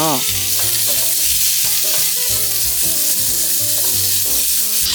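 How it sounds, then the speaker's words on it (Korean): Sliced cucumber stir-fried in a little oil in a pan over high heat gives a steady, close sizzle throughout, with music playing over it. "팬을 강불에 올리고 기름을 조금 두른 후 오이를 볶아주세요."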